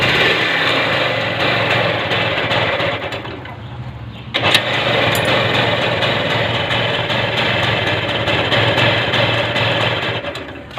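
A vehicle engine idles steadily after a carburetor adjustment, a loud continuous drone with one brief dip and a sharp knock partway through before the running hum resumes.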